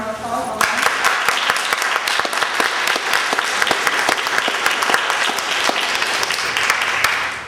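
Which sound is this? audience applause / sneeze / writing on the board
audience applause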